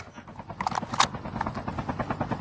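Helicopter in the Call of Duty video game, a steady rhythmic rotor thumping at moderate level with brief game effects and faint speech.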